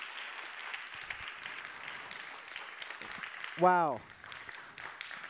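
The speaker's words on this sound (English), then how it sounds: "Give them a massive round of applause." Audience applause closing a conference session on the polar regions at ChangeNOW 2022. A steady, even wash of clapping runs throughout, with a single voice exclaiming briefly partway through.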